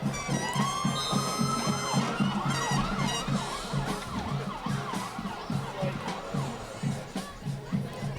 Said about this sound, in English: I swear I heard a siren or something.